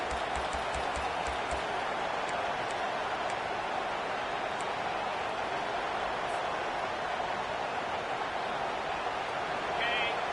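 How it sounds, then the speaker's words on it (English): Broad, steady roar of a stadium crowd cheering in a football video game, droning continuously at moderate level as the home fans try to rattle the opposing offense in the red zone, with a few faint tonal blips over it. "It is getting loud as this crowd tries to help its defense"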